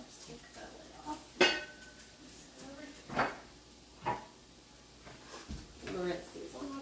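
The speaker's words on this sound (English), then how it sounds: "So, now let's take the lid off." A metal lid comes off a cooking pot in a home kitchen, giving a few sharp, separate clanks and clinks against a low, steady background.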